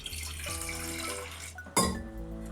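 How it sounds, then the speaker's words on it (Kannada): Water pours steadily into a pressure cooker at close range for a couple of seconds, ending in a sharp clank of metal. "ಕುಕ್ಕರ್ ಒಳಗೆ ಸ್ವಲ್ಪ ಕೆಳಗೆ ನೀರು ಹಾಕ್ಕೊಂಡು"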